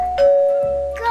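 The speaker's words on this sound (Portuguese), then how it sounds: "Campainha!" A doorbell chimes in a home, a clear two-note ding-dong with a sustained ringing tone between the strikes, loud and close with no talk over it.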